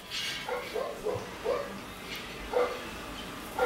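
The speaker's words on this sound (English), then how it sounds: "you're gonna hear my dogs too" Several dogs bark in a series of short, moderately distant yips and woofs spread across the moment, mixed with faint background activity from a neighbour's work.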